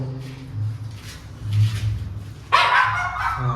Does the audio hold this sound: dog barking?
yes